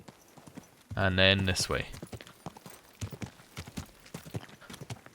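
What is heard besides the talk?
horse hooves clip-clop in Kingdom Come: Deliverance II video game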